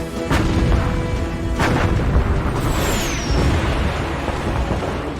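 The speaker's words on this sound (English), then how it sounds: "the German battleship Bismarck and heavy cruiser Prinz Eugen, exchange fire with the pride of the British Navy" Heavy naval gunfire from the 1941 duel between the German battleship Bismarck, the heavy cruiser Prinz Eugen and the British battleship Hood, with a few booming shots over continuous dense rumble and a brief whistling shell sound.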